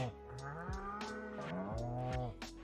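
Cows moo repeatedly in a farming video game set on an overgrown garden farm, the long, loud, drawn-out calls overlapping one after another with no talking.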